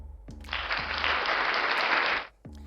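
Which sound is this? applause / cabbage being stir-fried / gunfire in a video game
applause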